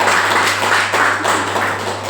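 An audience at a Vestige Champions Day gathering in Ranchi claps together indoors, producing a dense, steady patter of many hands over a low constant hum, with no voices.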